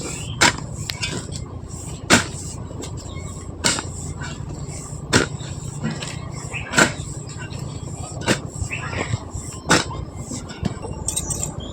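A hand tool digs a half-foot-deep pit in garden soil for a rose plant, giving about eight sharp, evenly spaced thuds roughly every second and a half over a low steady background.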